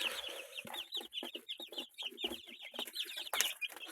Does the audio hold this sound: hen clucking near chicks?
yes